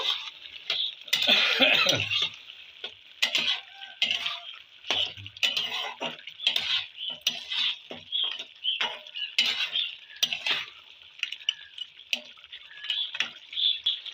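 Spoon stirring beef curry with fried cumin and coriander powder in a pan, a steady run of close scraping and clinking strokes, repeated in uneven rhythm.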